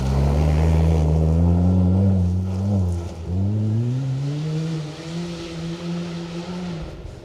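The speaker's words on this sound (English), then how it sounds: "BMW Mini" A BMW Mini rally car on a rally stage. The engine roars loud and close, then its pitch drops and climbs again through a gear change or corner before holding a strong note and fading slightly.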